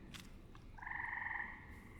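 Frogs croak in a forest soundscape, a sustained, steady trilling call that swells in nearby and holds for over a second against a quiet ambient bed.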